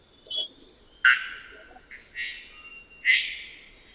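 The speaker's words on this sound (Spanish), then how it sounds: "Por ahí está un sonido del pájaro campana" Bellbird in Costa Rica giving three loud, ringing calls spaced about a second apart, each a sharp onset with a brief trailing tone, over a low background hum.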